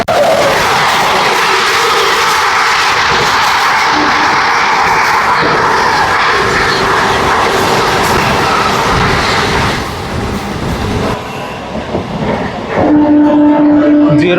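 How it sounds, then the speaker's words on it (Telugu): The 12718 Ratnachal Superfast Express from Vijayawada to Visakhapatnam roars past close by. Its loud, steady rumble lasts about ten seconds, then eases into a lower mechanical hum with a sustained tone near the end. "12718 Ratnachal super fast express Vijayawada నుంచి విశాఖపట్నం వరకు వెళ్తుంది."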